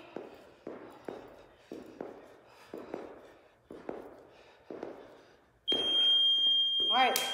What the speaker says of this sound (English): Wait till you hear the beep.